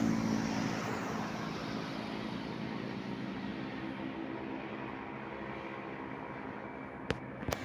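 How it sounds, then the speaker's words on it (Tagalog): Steady road traffic along a highway in Ordoneta, Pangasinan, a continuous broadband rumble of passing vehicles heard from nearby, with a couple of brief sharp clicks near the end and no talking. "sa may highway po tayo mga idol. Highway, Ordoneta, Pangasinan"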